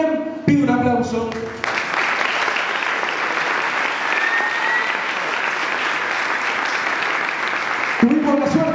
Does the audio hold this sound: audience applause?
yes